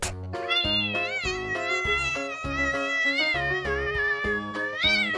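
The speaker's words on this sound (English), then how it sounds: "Cat." A domestic cat meows repeatedly in a steady run of drawn-out, tonal calls, close and clear with no other sounds around it.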